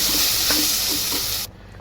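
Cumin, mustard seeds, ginger, garlic and curry leaves with tomato, onion and potato sizzle and crackle in hot oil with a steady bright hiss, close by, then the sound cuts off abruptly near the end.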